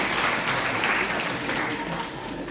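An audience at a Jain religious discourse claps continuously in a close, dense burst of applause that holds steady, then softens a little near the end.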